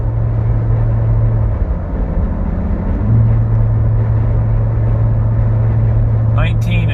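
Jeep Gladiator cruising on a highway, a loud steady engine drone and road rumble with a low tone that drops and rises again, a voice talking over it.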